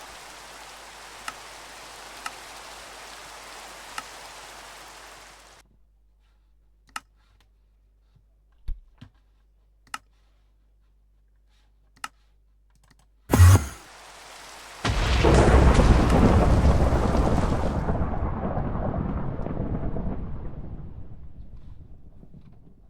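Thunder cracks loudly once after a stretch of light hiss and scattered clicks, followed by a heavy roar of rain pouring down in a racing video game, fading out near the end.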